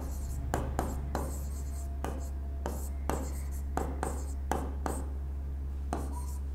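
Chalk or marker strokes on a board during a mathematics lecture, rhythmic scratchy bursts repeating steadily over a constant low electrical hum.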